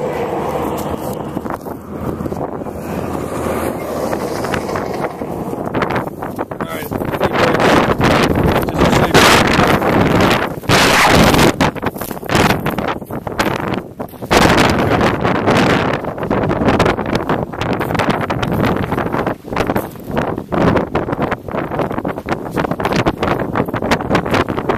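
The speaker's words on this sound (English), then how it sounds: "I know it's really windy." Strong outdoor wind buffets the microphone in heavy, rumbling gusts that rise and fall throughout, close and loud, with only brief lulls between blasts.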